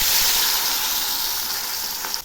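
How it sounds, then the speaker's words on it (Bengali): Fish slid into a wok of hot oil, about a bowlful, giving a steady, bright, broadband sizzle that hisses evenly throughout and tapers slightly near the end, with no voices. "তেল গরম হয়েছে। এবার আমি মাছগুলো ছেড়ে দিচ্ছি।"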